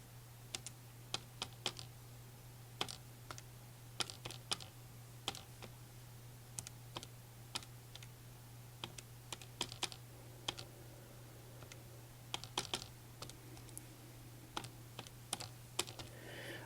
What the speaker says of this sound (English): just for fun, I'm going to type it in the other way